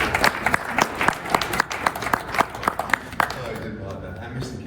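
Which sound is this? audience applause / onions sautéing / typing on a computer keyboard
audience applause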